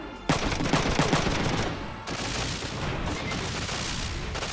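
Loud, close gunfire in the PlayStation game Front Mission 3 crackles in dense bursts with a brief lull before the shooting resumes and continues.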